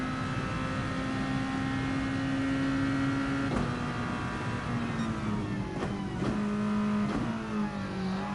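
A Red Bull junior race car engine holds a steady high drone, then shifts gears with sharp breaks and pitch drops, several quick changes in a row, heard clearly with no voices.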